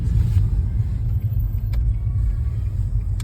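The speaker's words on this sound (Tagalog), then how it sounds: "Ah, traffic na." Continuous low rumble of nearby car traffic on a busy road or highway, steady engine drone with a faint passing whoosh, no one speaking.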